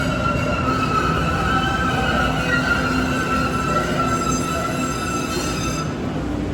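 An MBTA Green Line train at Government Center station, a steady loud rail rumble with sustained wheel squeal tones running throughout, no talking.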